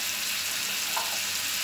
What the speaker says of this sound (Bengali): আর এখন আমি এই কিউব করে কেটে রাখা আলুগুলো দিয়ে দিচ্ছি